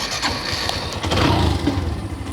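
Exhaust note of a Hero Xtreme 125 motorcycle: a steady, loud, close mid-pitched engine running with a slight rev swell, heard on its own.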